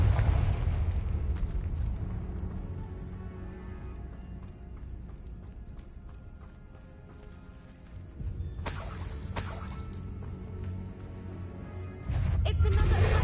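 Confringo blasting spell explosions in Hogwarts Legacy: a loud burst with a crackling tail, then a second heavy boom near the end, over rumbling game ambience with voices speaking.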